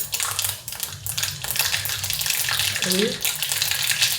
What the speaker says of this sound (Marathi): तेल थोडं ओतले फोडणीला मोहरी टाकते